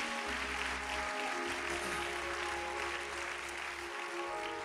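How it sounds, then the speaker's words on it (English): A church congregation applauds, a dense, sustained wash of many hands clapping that fills the whole stretch at an even level. "Let's give them a hand clap of appreciation for working so hard."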